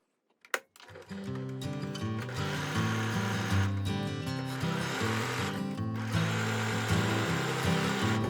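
A sewing machine stitches the inside seams of a lined drawstring fabric backpack, starting with a few clicks and then running as a steady, close mechanical whirr with rapid rhythmic pulsing.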